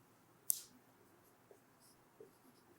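Pen or marker strokes during a handwritten maths lesson: one short, sharp scratch, then two faint taps, heard alone in a quiet room.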